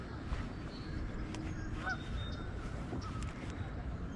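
Outdoors at a North Carolina bass fishing spot, a distant goose-like bird gives a few faint honks over steady ambient wind and water noise.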